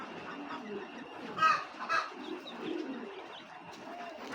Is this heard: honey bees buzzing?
no